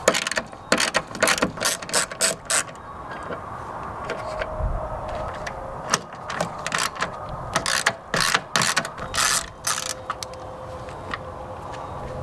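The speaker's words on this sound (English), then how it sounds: "Next, we're going to take 3 10mm bolts off." Hand ratchet backing out 10mm bolts on an SVT Raptor headlight, quick irregular runs of sharp clicks with brief pauses between strokes, close-up and alone.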